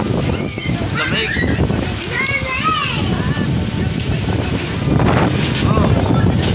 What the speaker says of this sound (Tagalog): Wala siyang ulan pero lakas ng hangin